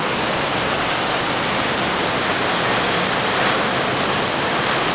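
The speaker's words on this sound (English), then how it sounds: "The waterfall. What is it? The waterfall. Oh my goodness! It's huge." A large waterfall on Vancouver Island, viewed from a high bridge, roars as a dense, constant broadband rush that holds loud and unbroken throughout.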